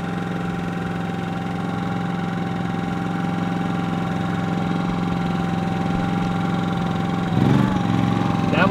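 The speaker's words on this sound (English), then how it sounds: "we will go ahead and let you see what's happening with the generator" An RV generator running with a steady, loud mechanical hum and drone that holds constant throughout, with a slight shift and added rattle near the end.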